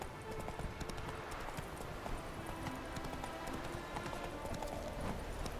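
Roach the horse trotting in The Witcher 3, a steady stream of close hoof clip-clops that continues without a break, with a faint background hum and no speech.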